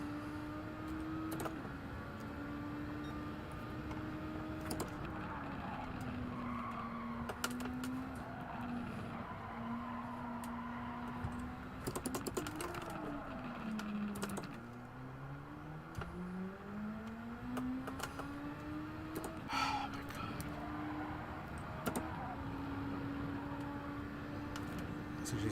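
A Super Formula SF23 race car on soft tires is driven in Gran Turismo 7; its loud engine whine climbs and drops through gear changes and braking, with tire squeal and skidding in the corners.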